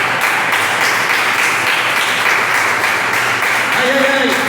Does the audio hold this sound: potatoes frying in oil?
no